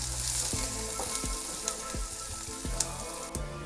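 Chopped onions sautéing in a pan, stirred with a spatula, making a dense steady sizzle broken by roughly regular scraping knocks about every half second, close and loud with no talking.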